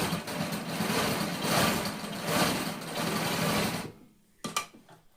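A sewing machine runs a zig-zag stitch along a saree edge in a continuous rapid whir with a few pulsing surges, then stops abruptly, followed by a couple of short mechanical clicks and bursts.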